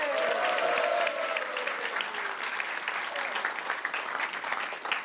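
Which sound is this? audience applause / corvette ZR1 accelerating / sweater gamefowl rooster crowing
audience applause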